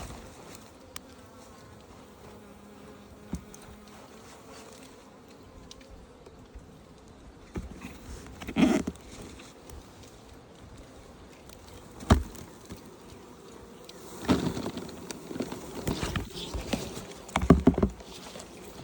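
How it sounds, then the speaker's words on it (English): Many bees buzzing around a hive being handled and sprayed with water, a low continuous drone with louder swells and bumps as the hive is moved, no talking. "there's a lot of bees"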